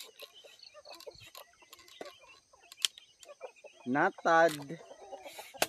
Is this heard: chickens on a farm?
yes